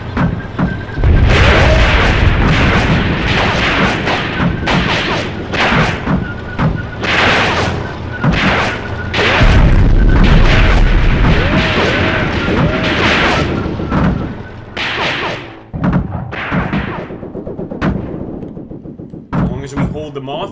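Stuart tank gun shots in a WW2 desert battle video game, a run of loud, heavy booms and crashing impacts in quick succession, close and dense, with a voice talking over them.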